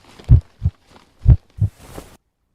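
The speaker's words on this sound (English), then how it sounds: "Oh, it was a heart beating." A heartbeat sound effect in an animated spooky story: two deep lub-dub pairs, close and heavy, thumping in a steady rhythm with no talking.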